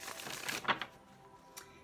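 Quiet riffle of tarot cards being shuffled, a soft fluttering burst followed by a single faint snap, no voices.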